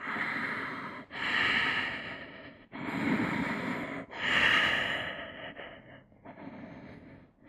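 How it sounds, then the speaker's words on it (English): Slow, deep breathing while holding a standing forehead-to-knee yoga pose: four or five long, audible breaths, close and fairly loud, each separated by a short pause, with a softer breath at the end. "And then slowly breathe."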